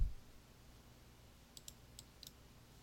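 A few faint, sharp mouse clicks at a computer while working in Adobe Illustrator, three or four quick ticks over a quiet room hum.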